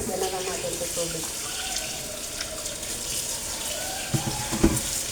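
Tap water runs steadily into a sink while hands are rinsed, a continuous close wash with a few brief clatters near the end and some voices in the background.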